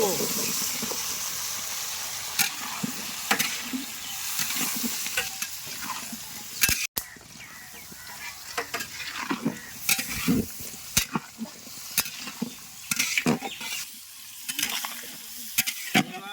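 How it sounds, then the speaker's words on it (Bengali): Potatoes stirred and sautéed in a pan for a vegetarian winter khichuri, with bay leaves in the oil. Steady sizzle runs under repeated close scraping and stirring strokes, and a voice talks intermittently. "আলুটা একটু কষা কষা করে নি"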